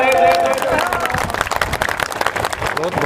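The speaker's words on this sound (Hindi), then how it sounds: "जोरदार तालियों से इनका स्वागत करें" A crowd claps energetically at a village election rally, a dense burst of applause with a voice calling out over it.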